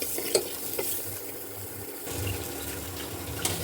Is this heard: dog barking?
no